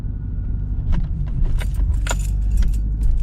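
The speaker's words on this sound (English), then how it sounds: "Now I'll stay quiet so you can listen to the car." Interior of a BMW E46 on a drive through narrow streets, a steady low engine and road rumble with jangling keys and light rattles on top, close and continuous, no talking.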